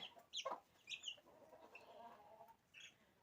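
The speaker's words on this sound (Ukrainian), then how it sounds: "Ось наші цеплятки. Вже підросли дуже гарненько." Young chickens on a village farm cluck and peep softly in short, scattered calls, faint and close, with no one talking.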